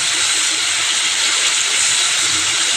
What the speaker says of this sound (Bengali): এই যে চাল কুমড়োর খোসাগুলো একটু ভাজা করছি সর্ষে ফোড়ন দিয়ে